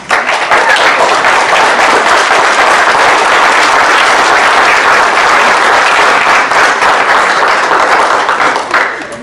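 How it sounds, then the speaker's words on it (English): Loud, sustained clapping from a crowd at a school board hearing, a dense wash of applause that stays steady for several seconds and fades only at the very end, with no speech over it. "We have asked repeatedly not to have the clapping and the show of support or not support."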